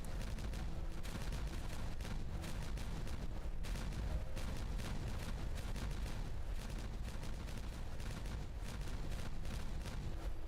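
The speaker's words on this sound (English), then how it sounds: "Explosions!" Dense, continuous rumble of rapid in-game explosions detonating one after another across a mecha beaver base, loud and sustained with no gaps, no voices over it.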